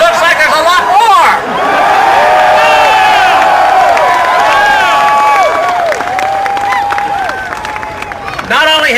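At a Ron Paul political rally a large crowd cheers, with dense loud shouting, whooping and clapping from many voices swelling and sustained throughout.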